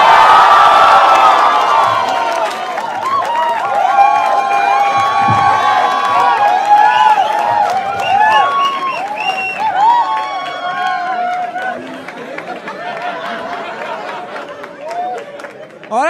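A studio audience at a comedy talent show cheers, whoops and shouts for the panel, a loud sustained crowd roar with excited voices rising over it throughout.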